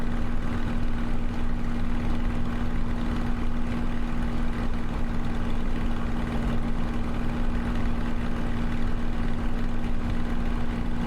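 An aircraft piston engine in Microsoft Flight Simulator runs steadily at 2,500 RPM with the radiator flaps open. It makes a constant, loud, unbroken droning hum with a steady low tone throughout.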